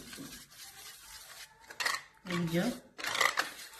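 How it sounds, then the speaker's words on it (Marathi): A spoon scrapes and clatters against a bowl while wheat-flour gulgule batter is mixed, in a few short bursts of stirring with brief pauses between them. "आता हे सगळं मिक्स करून घेते मी."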